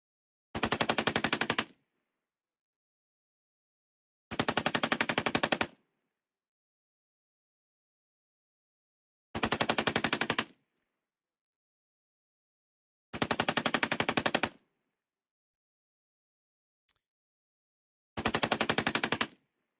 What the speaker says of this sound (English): he is firing off what is being described as a machine gun